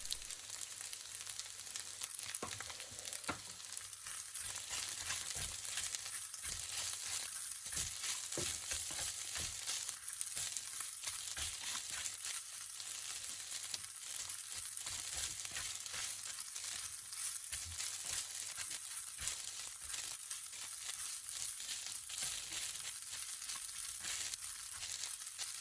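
Village-style fried rice with fried anchovies is stir-fried in a pan, giving a steady hiss and sizzle with a quiet scraping of the spatula throughout and no voices.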